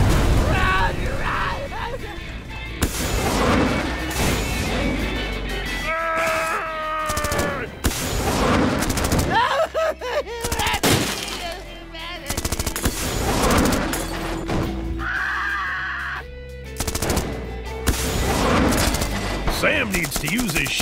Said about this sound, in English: He shoots. He misses.